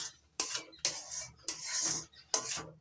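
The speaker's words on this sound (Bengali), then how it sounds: "নারকেল কোড়ার সঙ্গে সুজি ভালো করে মিশিয়ে নিচ্ছি।" Semolina being stirred by hand with grated coconut in a bowl for modak, four sharp scraping strokes with rasping, rubbing texture, close and alone.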